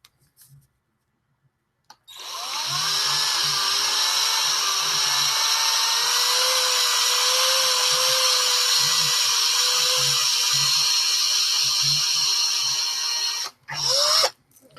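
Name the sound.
drill bit drilling into metal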